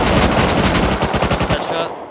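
Sustained automatic gunfire from the video game Rust, a dense rapid burst of shots rattling steadily for about a second and a half before cutting off, loud and close.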